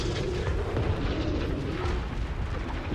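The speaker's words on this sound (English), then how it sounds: "let's enjoy the fireworks as that mothership is getting blown to smithereens" A mothership blows up in the Homeworld 3 space strategy game, a dense rumbling roar of explosions and booming blasts sustained for a few seconds.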